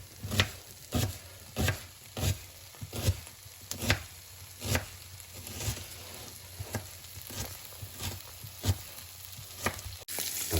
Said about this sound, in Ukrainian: Так, нарізаємо цибулю.